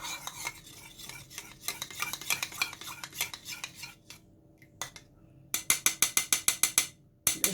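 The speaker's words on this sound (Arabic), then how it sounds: "هنقلبهم بقى كويس" A spoon stirs milk, cream and butter together in a dish, clinking and scraping repeatedly against the sides. The strokes start steady, fall briefly quiet, then turn into a fast run of sharp, loud clicks near the end.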